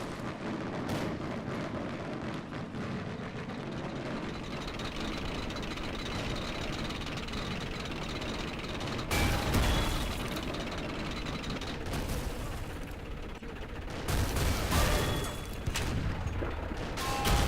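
Heavy tank cannon shots and rumbling battle noise from a WWII Pacific tank battle video game pitting Japanese Ha-Go tanks against American Stuart tanks, with loud blasts near 9 and 14 seconds over continuous engine and gunfire din.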